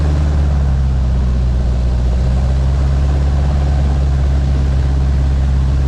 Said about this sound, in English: We taxied over to the Slipway on the step of the floats.